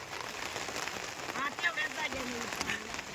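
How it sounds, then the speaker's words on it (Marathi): Steady rain hisses across the whole clip, with a voice or two speaking faintly underneath the downpour. "लय पाऊस आला का पावसानं सगळं गोळ केला"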